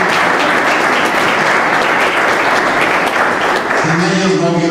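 An audience applauds for a technical support team at a virtual school closing ceremony, loud continuous clapping that fills the whole stretch, with a voice starting to speak near the end.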